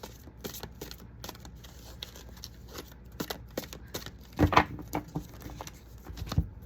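A large 200-card oracle deck being shuffled by hand, giving soft irregular riffles and taps with a louder flurry of card noise midway and near the end, fairly close and quiet, with no talking.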